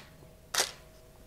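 One crisp camera shutter click from a camera set for a roughly one-second long exposure while photographing a leaf outdoors, close and isolated against quiet ambience.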